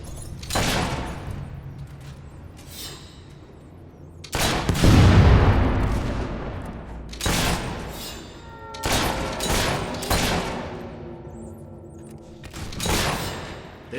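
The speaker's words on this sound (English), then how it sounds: "Shooting." Irregular gunshots crack and boom through a Fable III battle, separated by shorter thuds and a deep rumbling impact, with the reverberant tails overlapping under quieter game ambience.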